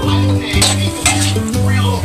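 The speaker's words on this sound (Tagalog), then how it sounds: "Tapos haluin lang natin." A spoon stirs pakbet, a thick Filipino vegetable stew, in a pan, making a few close clinks and scrapes against the metal over a steady low background hum.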